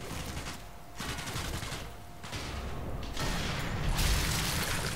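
Rapid gunfire bursts in a video game shooting match, dense and continuous with mechanical clatter, loud and close throughout.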